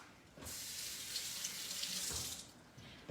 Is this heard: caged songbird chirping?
no